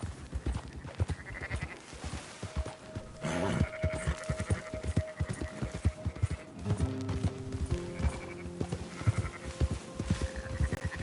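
Steady clip-clop of horse hooves in Red Dead Redemption 2 trots along at a quick rhythm, with a bleating animal call and faint background tones.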